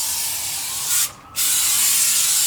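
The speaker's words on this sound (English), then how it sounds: "this boom mat spray-on is excellent. It adheres very well to the material." Boom Mat spray-on sound deadener hisses steadily from an aerosol can while coating a Mustang's speaker well, with one brief pause in the middle before the broad spray resumes, close and fairly loud.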